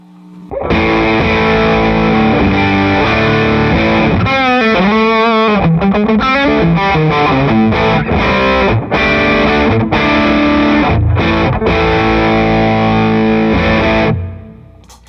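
Electric guitar played through a Rat distortion pedal, sustained crunchy chords with a fast run of notes in the middle, loud and close, ending abruptly.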